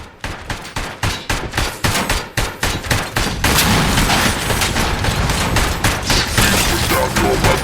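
Gunfire from the ED-209 robot in the video game RoboCop: Rogue City starts as a rapid, evenly spaced burst of loud shots. It then merges into a dense continuous roar of automatic fire and booms.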